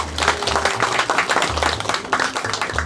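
Dense, continuous audience applause at a community cultural gathering in Korea, loud and steady throughout, with a low background tone or music running beneath the clapping.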